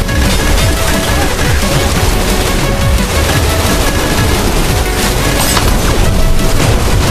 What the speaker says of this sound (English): I have 12 people shooting at me and they all have dual Uzis